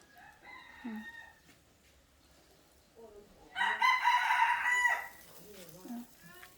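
Chickens cluck around a farmyard while a rooster lets out one loud, clear crow in the middle, with softer clucks before and after it.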